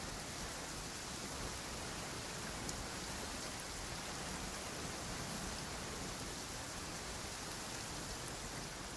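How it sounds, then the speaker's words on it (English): Rain falls in a video game as a constant, uniform hiss of dense drops, steady and fairly loud throughout with no variation or voices. "It's raining again?"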